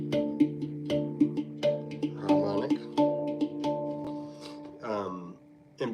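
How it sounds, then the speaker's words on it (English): Harmonics played with the pointer finger in a repeating roll pattern on a string instrument, giving bell-like chiming notes in quick, regular plucks. Short brushed or muted passages break in along the way, and no one talks. "just using my pointer finger, so I'm doing like harmonic roll, keeping this pattern."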